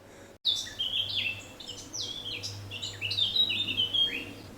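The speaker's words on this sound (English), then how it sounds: "Can you hear bird life?" Several birds chirp and warble in quick overlapping phrases, fairly close, in Cotswolds woodland, over a quiet outdoor background with a faint low hum from an aeroplane.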